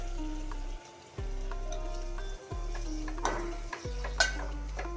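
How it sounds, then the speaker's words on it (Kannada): Chopped tomatoes are stirred into reddened fried onion masala in oil for egg sambar, giving a steady close scraping and soft sizzle with a few louder clinks of the spoon against the pan. "ಸೊ ಇದಕ್ಕೆ ಇವಾಗ ನಾವು ಹೆಚ್ಚಿರೋ ಟೊಮೆಟೊನ ಮಿಕ್ಸ್ ಮಾಡ್ಕೊತಿದ್ದೀವಿ"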